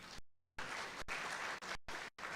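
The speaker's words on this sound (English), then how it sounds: "A round of applause for the DG." Audience applause for the DG at a development skills summit, a dense wash of clapping cut by short silent gaps.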